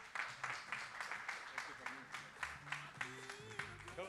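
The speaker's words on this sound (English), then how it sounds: "Give Fermin and Miami-Dade College a round of applause." An audience at a homeownership summit gives a round of applause, a string of rhythmic clapping bursts that rise and fall in regular waves, with voices and some whooping underneath.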